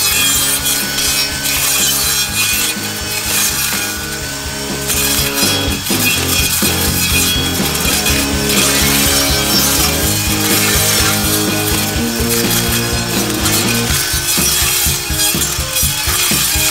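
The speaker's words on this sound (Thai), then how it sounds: "ถ้าอย่างตัดกิ่งไม้เงี้ยทุกคนดูดิมันก็ตัดได้นะครับ" A loud, continuous buzzing motor of an IMAX IMGT-002GT cordless grass trimmer cuts through tree branches with rough rasping and grinding, close up and sustained without pause.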